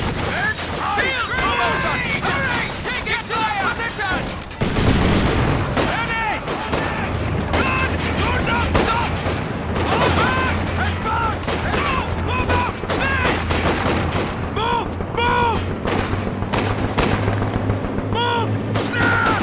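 Machine gun fire and explosions in Company of Heroes 2 rattle in loud bursts amid battle effects and game voice lines, with a player talking over the combat.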